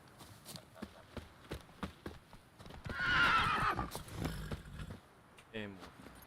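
Roach, a horse in The Witcher 3 video game, clip-clops along in a steady galloping rhythm, then lets out a loud, close neigh midway, with a brief game sound near the end.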